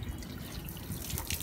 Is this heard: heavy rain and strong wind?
no